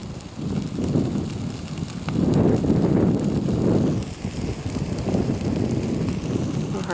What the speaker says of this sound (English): 5 to 8 miles an hour wind, no?